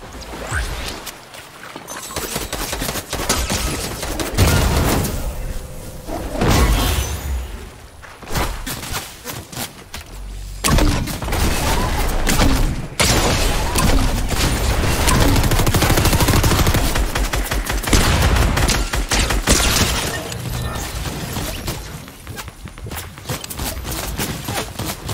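Fortnite gunfire crackles almost continuously at close range, with dense bursts of shots and brief lulls over roughly twenty-five seconds of busy game action.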